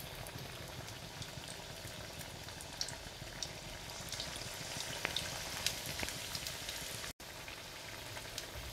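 Methi vada made with beetroot bubble and sizzle in hot oil in a kadhai, a steady frying hiss with fine crackles and pops throughout.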